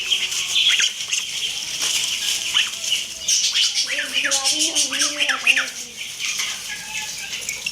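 Caged pet birds call with bursts of chirps and squawks and some fluttering wings, fairly close, while a person talks over them.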